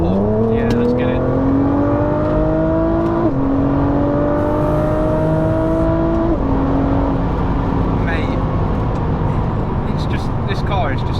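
A 650bhp Nissan GT-R accelerates hard through its gears from inside the cabin, the engine note climbing steadily, dipping at each shift, then rising again, loud and droning, with people talking over it.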